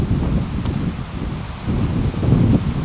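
Breezy but warm wind sweeps through hedges on a countryside walk near Dartmoor, a steady close rushing and rustle with gusty swells and some mic buffeting throughout.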